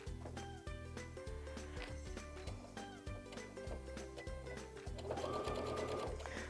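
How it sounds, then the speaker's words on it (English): A sewing machine stitches quilt binding with a 3/8 inch seam, running in a fast, steady mechanical chatter with short pauses and a brief change in pitch near the end, close and alone. "I'm going to continue sewing here towards my corner with that 3/8 inch seam"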